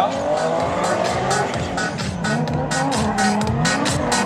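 Drift cars in a head-to-head battle at a Drift Masters GP competition round in Radom, with loud, continuous tire squeal and skidding over roaring engines, pitch sweeping up and down through the corners, with commentary voiced underneath.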